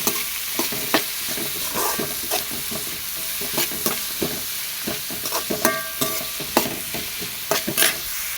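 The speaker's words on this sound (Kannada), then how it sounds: "ಈರುಳ್ಳಿ ಫ್ರೈ ಆಗೋಕ್ಕೆ ಉಪ್ಪು ಹಾಕಿ ಚೆನ್ನಾಗಿ ಫ್ರೈ ಮಾಡ್ಕೊಳ್ಳೋಣ" Sliced onions with garlic, curry leaves and salt frying in a kadai for cabbage sambar: a constant close oil sizzle broken by repeated sharp scrapes and knocks of a spoon stirring against the pan.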